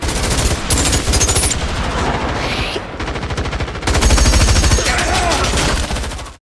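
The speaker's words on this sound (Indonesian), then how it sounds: "Baku tembak pun tak terelakkan." Rapid bursts of automatic gunfire fill a film shootout between uniformed guards and robbers in a cramped room, with loud, dense volleys that pause briefly midway before another heavy barrage.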